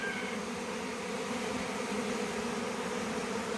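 A honeybee swarm flies in the air around hive frames after the bees were moved into a new hive with four waxed frames, giving a steady, dense buzzing drone that stays close and constant throughout.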